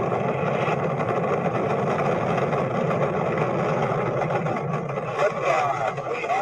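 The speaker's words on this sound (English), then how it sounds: "2, 1, 0. All engines running." Apollo 11 rocket engines roar at liftoff, a dense, sustained low rumble with a crackling broadband texture that holds steady and loud throughout, heard alone.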